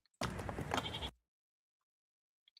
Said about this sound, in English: And you hear some sheep